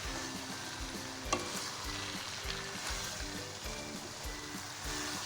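Boiled macaroni stir-fried with chicken tikka in a pan over a high flame, with a steady close sizzle and repeated rhythmic scraping stirs, one sharper clatter, and no talk.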